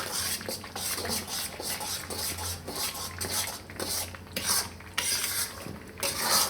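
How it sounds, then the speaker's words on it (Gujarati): Continuous close stirring and scraping of an adadiya lachko mixture in a pan over a low flame, rhythmic metallic scrapes with a constant grainy texture, no talk. "થોડીક વાર હલાવશું આને."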